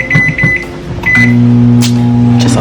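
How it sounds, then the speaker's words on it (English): A microwave oven runs with a steady low hum after a few beeps and clicks from its controls, close and loud, with no speech. "We're gonna pop these junks in the microwave."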